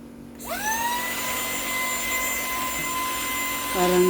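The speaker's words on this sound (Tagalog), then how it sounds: "super cute ng vacuum. Grabe. Ang liit. Pero very powerful." A small but powerful household vacuum cleaner whirs up at switch-on into a steady high-pitched whine, running close and continuous, with a brief spoken exclamation near the end.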